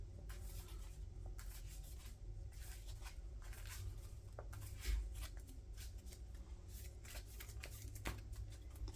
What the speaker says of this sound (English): And we'll shuffle again.